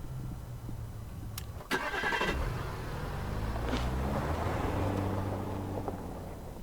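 A car engine starts in Gunsmith Simulator: a sharp click, then a brief cranking before the motor catches. It settles into a steady mid-pitched idle that runs to the end, with no talk.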